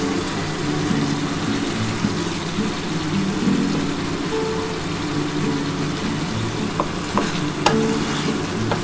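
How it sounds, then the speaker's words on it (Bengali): Chicken stir-fried with tomato sauce and soy sauce for a chilli chicken–style kasha sizzles loudly and steadily in the pan, with a few sharp clinks of a utensil near the end and no talking. "এই টমেটো সস, সোয়া সসের সাথে চিকেনটা ভালো করে কষিয়ে নিই"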